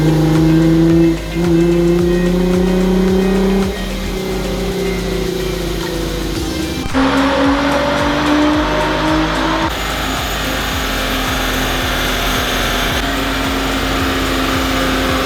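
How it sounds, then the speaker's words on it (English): Nissan GT-R fitted with a Kline exhaust, revving hard on a dyno: a loud, sustained engine roar climbing through gears with rising pitch, shifts and a raspy exhaust edge, no talking. "let's hear what it sounds like on the dyno"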